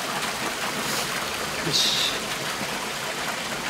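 A waterfall pours into its plunge pool at night, a steady broadband rush that fills the whole clip, with a brief spoken syllable over it.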